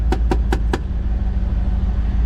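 A third-generation Camaro with a Cherry Bomb muffler idles with a low, steady burble, opening with four quick evenly spaced knocking pulses before settling into an even, loud rumble.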